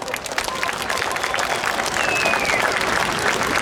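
Crowd applause at a Midsummer (Joninės) festival in Elektrėnai, dense and sustained clapping from a large outdoor audience that swells louder partway through, with scattered cheers mixed in.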